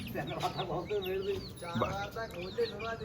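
Young chicks cluck and chirp in short bursts close by, with a person talking over the birds.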